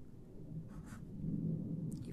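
A pen scratches across paper while a cosine graph is drawn, a faint, low, continuous scratching that swells slightly midway, close and quiet.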